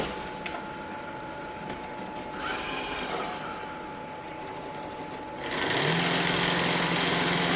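An iRobot Roomba s9+ robot vacuum starts up, first a faint whirring motor hum that then swells into a steady, fairly loud whine with a low droning undertone, close by and with no talk.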